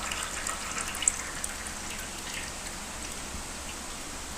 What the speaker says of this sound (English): if you've got a little fluid in there, drain it out. It might dribble on you.